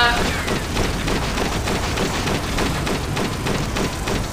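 Rapid, continuous gunfire crackles through a zombie shooting mobile game, a dense stream of loud shots at a steady fast rhythm with a voice speaking over it.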